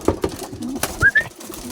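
Young racing pigeons give soft, short coos and chirps as they enter their home loft, with a few faint rustles and knocks around them.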